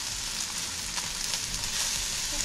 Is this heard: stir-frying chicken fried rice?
yes